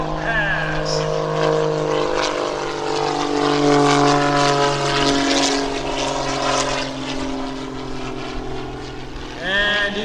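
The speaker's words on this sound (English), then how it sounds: "he rolls the airplane to knife edge" A Pitts aerobatic biplane at an airshow rolling to knife edge, its propeller engine droning with shifting pitch as it passes, while an announcer talks over the loudspeakers.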